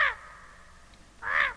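A crow gives two harsh caws in a forest, each a loud, grating call with a short pause of quiet between them.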